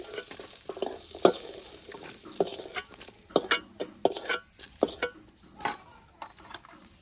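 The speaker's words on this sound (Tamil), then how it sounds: "சின்ன வெங்காயம் வறுத்தாச்சு எடுத்துக்கலாங்க" Small shallots fry in oil for an Erode-style country chicken curry. A utensil stirs and scrapes the pan in irregular bursts over a soft, steady sizzle, close and without talk.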